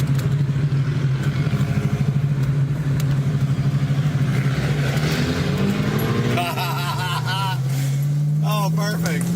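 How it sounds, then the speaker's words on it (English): A BMW with a burble exhaust tune goes by on the road. Its steady engine rumble gives way to crackling, popping backfires near the end, with people talking over it. "got the burble tune. You hear it backfire?"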